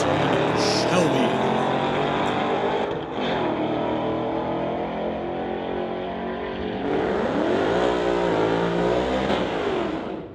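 A 2022 Ford and a 2013 Shelby drag racing, with loud, close engines roaring and revving in rising, overlapping harmonic sweeps that surge again near the end.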